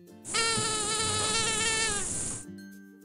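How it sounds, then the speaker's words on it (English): A mosquito whines close up in one continuous high-pitched buzz lasting about two seconds, alone with no talk. "Mosquito."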